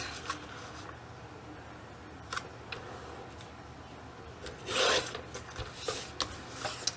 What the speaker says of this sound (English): You cut a 5 inch piece, and then you cut a 4 inch piece.